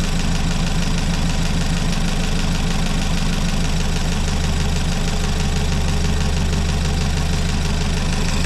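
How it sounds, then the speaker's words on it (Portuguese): A homemade CHT engine idling in a VW Gol, a close, steady, even low rumble with a light ticking knock running evenly throughout, no voices over it. "nem parece que tem um motor ligado aí. Parece uma maquininha de costura."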